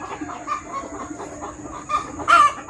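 Crowded hens on a Philippine poultry farm cluck in short, overlapping bursts, close by and fairly loud, with a sharper squawk near the end.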